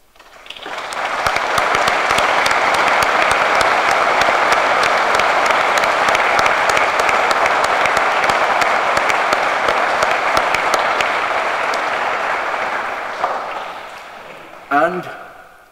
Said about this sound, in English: Will you please, now, clap yourselves and those who are doing the wonderful work.